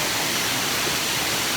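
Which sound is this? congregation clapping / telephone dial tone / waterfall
waterfall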